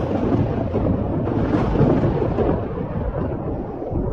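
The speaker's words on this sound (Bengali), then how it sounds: "সেই সময় দেখে জোরে জোরে বাজ পড়তে শুরু করেছে।" Thunder as a sound effect in a storm scene: a deep, loud, continuous rolling rumble with rain-like hiss, swelling and slowly fading, with no speech over it.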